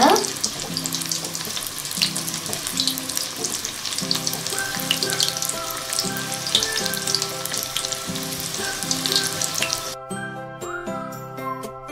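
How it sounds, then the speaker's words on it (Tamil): Fish fingers fry in hot oil over a medium flame, a loud continuous crackling sizzle close up that runs throughout, with a faint ringing tonal hum underneath toward the end. "ஃபிஷ் வந்து மீடியம் ஃப்ளேம்லேயே வச்சு நல்லா ஃப்ரை பண்ணிக்கோங்க."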